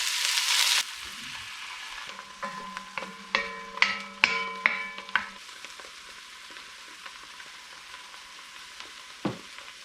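Sauce with Italian herbs simmering down in a pan, with a soft sizzle under a run of close utensil clinks and scrapes as it is stirred, busiest in the middle, then settling to a low bubbling with one last knock.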